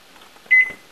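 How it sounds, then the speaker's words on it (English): A household microwave oven gives a short electronic beep, a single bright tone over a quiet hum. "now let's say I want something heated up in the microwave"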